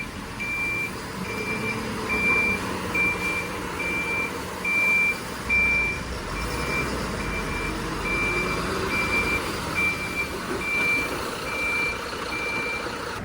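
Reversing beeps from a BharatBenz 16-wheel Taurus truck, a steady evenly spaced electronic alarm repeating throughout over continuous rain and low engine rumble, with no voices.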